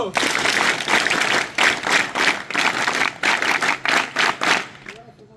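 A group claps in a quick, uneven rhythm that swells and dips in loud bursts, close by, for several seconds before stopping abruptly.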